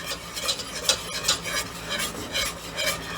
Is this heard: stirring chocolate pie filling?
yes